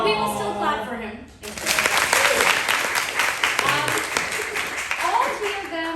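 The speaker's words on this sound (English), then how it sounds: "So, but we will still clap for him." An audience at a New York Film Festival screening event breaks into sustained, fairly loud applause after a short stretch of speech, and a voice talks over the clapping near the end.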